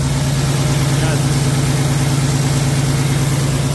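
Paccar MX13 truck engine idling steadily with a compression leak into the coolant tank, a loud, close, even low drone with a faint rhythmic pulse throughout.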